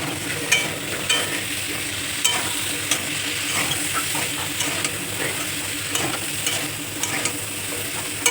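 Vegetable stalks stir-fried in a pan for a vegetarian dish: a continuous hissing sizzle close up, punctuated by regular spatula scrapes and light knocks against the pan, with no voices.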